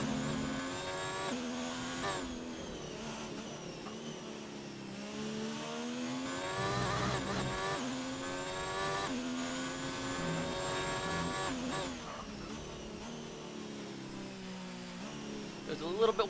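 Onboard engine of an Alfa Romeo Formula 1 car in an F1 video game at the French Grand Prix on medium tires, a steady high-pitched whine rising and falling with gear changes throughout, with a commentator talking over it.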